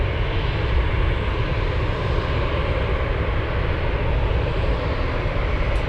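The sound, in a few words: Boeing 747 Dreamlifter jet aircraft at Anchorage airport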